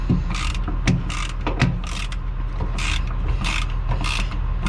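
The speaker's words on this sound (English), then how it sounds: "These collapsible ratchets definitely are nice." A collapsible ratchet clicks in short repeated bursts while loosening fasteners on a car hauler frame, the close, sharp pawl rattles coming in a steady back-and-forth rhythm over a low background hum, with no talking.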